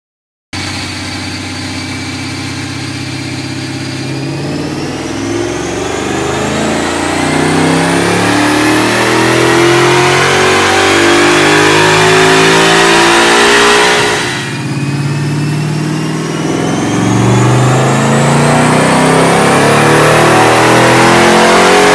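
A 2013 Mustang GT on a dyno with a custom tune, its engine droning loud and steady, then revving up in two long climbing sweeps with a brief dip between, alone without any talk.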